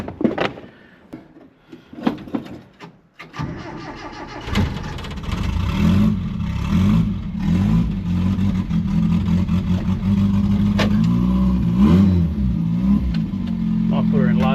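A Daihatsu F10 with no brakes or wing mirrors: after a few clunks and clicks the engine catches, then settles into a loud, close running rumble with uneven revving and someone speaking now and then.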